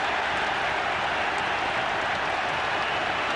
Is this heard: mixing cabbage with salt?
no